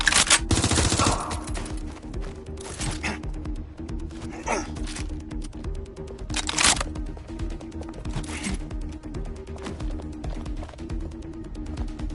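Rapid bursts of video-game gunfire crackle in close, sharp clusters, with several heavier volleys breaking through a steady background of in-game ambience.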